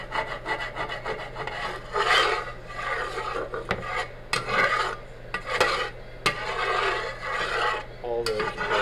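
A spatula scrapes browned pork chop fat drippings from the bottom of a skillet with chicken broth added, making loud, continuous rasping strokes that run close and steady for the whole stretch without any talking.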